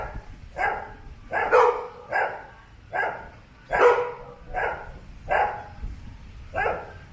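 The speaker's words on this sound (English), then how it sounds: "Oh gosh, I can't stop these dogs." Several dogs bark repeatedly in a steady series of about eight loud, mid-pitched barks spaced roughly a second apart, close by and with no talk over them.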